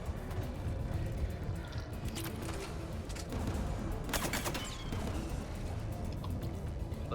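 Enemy gunfire in Mass Effect 3, a steady crackle of shots and impacts with a louder cluster of cracks midway, moderately loud over constant battle noise.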